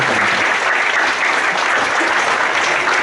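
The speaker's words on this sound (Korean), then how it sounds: "우리 뜨거운 박수로." Audience in a church service applauding warmly, a dense, steady wash of many hands clapping throughout without a break.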